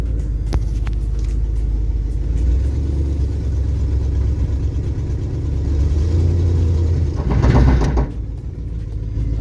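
A straight-piped Dodge Ramcharger on big tires, shifted into four-high to climb out of a hole, gives a loud, steady, deep exhaust rumble that swells into a brief surge near the end before settling.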